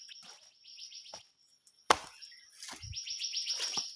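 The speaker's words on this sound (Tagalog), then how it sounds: "May naririnig kayo na ihon. Mga ibon yan." Birds chirp outdoors in quick, bright runs of repeated high notes, fairly close and clear, with a sharp knock or chop partway through and otherwise quiet surroundings.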